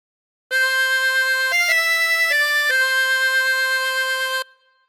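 A short phrase from Billy Joel's Piano Man played on a chromatic harmonica, sustained reedy notes stepping between a few pitches over about four seconds, loud and close with no talk.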